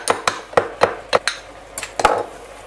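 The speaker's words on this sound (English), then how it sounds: "So I'm just going to put it in a little ramekin and just use the end of my knife just to grind it up." A knife end pounds saffron in a small ramekin during quinoa paella prep, giving about eight sharp, close taps in an uneven rhythm, each a bright clink of metal on ceramic.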